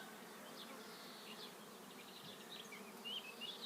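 A soft, sustained drone of a honeybee swarm buzzing at a distance, with high faint chirps of birds scattered over it.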